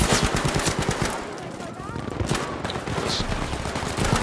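Rapid bursts of automatic gunfire in Battlefield V, loud and continuous, with a voice talking over the shooting.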